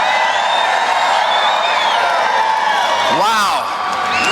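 A rally crowd in Asheville fills the space with continuous cheering, whooping and clapping, loud and dense throughout, with a brief louder swell near the end.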